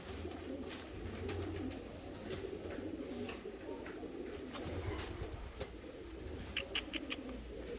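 Low, continuous cooing from several cream-coloured crested fancy pigeons, a steady murmur with occasional sharp clicks and flutters on top, fairly close and without talk.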